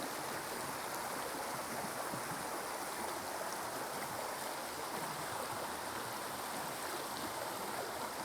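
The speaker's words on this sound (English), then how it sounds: "listening to the sound of the river here" A river flows steadily outdoors on a warm day, giving a continuous, close, full-bodied rushing and babbling wash that never lets up, with no voices.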